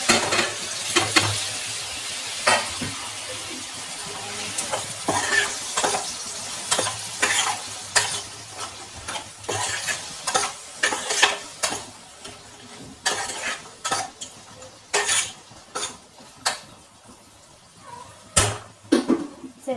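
A steady sizzle of cauliflower and tomatoes frying in a pan for a cauliflower tomato curry, broken by repeated scraping and clinking of a spoon stirring, close and continuous with no talking.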